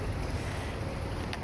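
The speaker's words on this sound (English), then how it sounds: "here comes the wind." Strong wind gusts buffet an open outdoor spot during a day hike, a steady broadband rush with low rumble close to the microphone and no voices.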